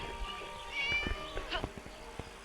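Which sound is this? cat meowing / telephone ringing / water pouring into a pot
cat meowing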